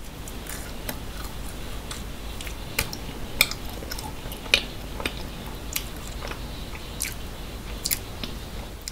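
Someone eats taro-flavored mochi ice cream and a chocolate heart up close, with soft, steady chewing and occasional sharper bites and clicks over a quiet background.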